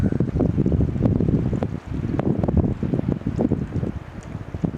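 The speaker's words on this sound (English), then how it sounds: "Sounds like a jet out there in the outer rocks, where the water's kind of surging in the first waves of tide." Ocean waves surge and crash against outer rocks as the tide comes in on the wild north coast of Olympic National Park, a steady, loud, roaring wash with wind buffeting the microphone throughout.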